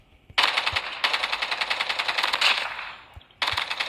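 Rapid automatic gunfire from the COD Mobile tutorial, loud and close in two long sustained bursts with a short pause between them, then a third burst starting at the end, with no talk.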